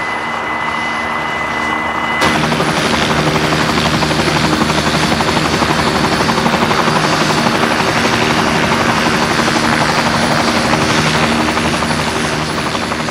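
A Kaman helicopter with a turbine engine roars loud and steady at close range. The rotor and turbine drone swells sharply after a brief quieter start, then holds an even, continuous whine and thrum.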